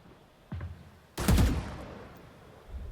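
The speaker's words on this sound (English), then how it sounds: "Trent takes a shot as Happy Way feeds into this B lurk position" Gunfire in Valorant during a professional Masters Toronto match: a lighter shot, then a louder, sharp crack with a short decaying tail, followed by faint background game noise.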